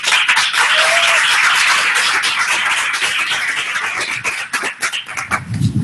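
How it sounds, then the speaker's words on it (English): A conference audience gives a round of applause, dense steady clapping filling the room for several seconds before thinning out near the end. "I wanted to give a round of applause for Kristen for joining us."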